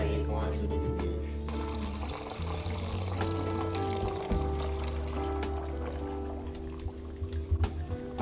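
Baptismal water poured during a church baptism, a steady liquid pour and trickle heard under a spoken prayer voice, fairly faint and close.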